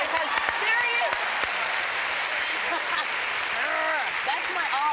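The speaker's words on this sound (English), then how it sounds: "Let's clap again" A studio audience claps and cheers during a talk show chat with a guest, a steady wash of applause with a voice speaking over it throughout.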